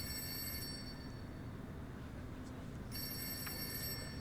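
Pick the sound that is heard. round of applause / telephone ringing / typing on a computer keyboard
telephone ringing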